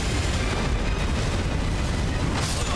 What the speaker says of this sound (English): That exploded faster than I thought. It's still exploding.